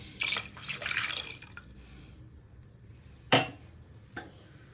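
Water poured from a glass into a cooking pot of egg sambar, a splashy pour of about two seconds followed by a couple of short clinks or splashes.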